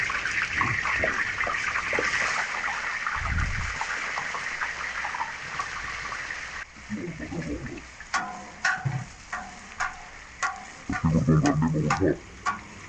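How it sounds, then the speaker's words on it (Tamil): Onions sizzle in hot oil in a pan while being stirred for mutton mandi, a steady close frying hiss with scraping and clinking of the spoon in the later part. "வெங்காயம் நல்லா செவற வரைக்கும் நல்லா கிண்டுனுச்சு"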